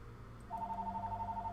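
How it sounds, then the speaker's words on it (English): A telephone starts ringing about halfway through, a steady electronic two-tone ring that is quiet and continuous over a low background hum. "Okay, now the phone's gonna ring."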